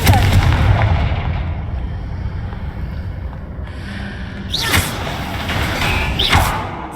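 A Confringo fire spell cast in Hogwarts Legacy, heard as sharp whooshing blasts that burst twice against steady rumbling game ambience, loud and close.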